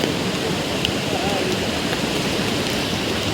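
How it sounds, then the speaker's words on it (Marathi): Steady rain falls outdoors at a fishing spot, a constant even hiss of drops that fills the whole stretch without letting up. "आता पाऊस आलाय मस्त"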